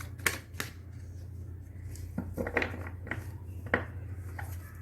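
Tarot cards being shuffled by hand, a series of crisp riffling bursts and card slaps at irregular intervals, close and moderately loud, with no talk.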